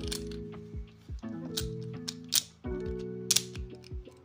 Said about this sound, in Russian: Ну и щелчки.